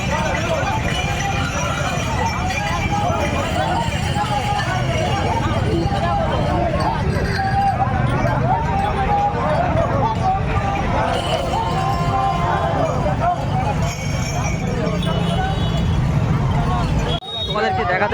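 Horse hooves clip-clop amid a dense pilgrim crowd on the Tarakeswar Shravani Mela yatra route near Sheoraphuli, under constant babble and nearby voices for the whole stretch.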